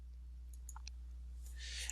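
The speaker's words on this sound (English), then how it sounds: "So I'm going to click on that." A few small, faint computer mouse clicks tick close by over a steady low hum, with no talking.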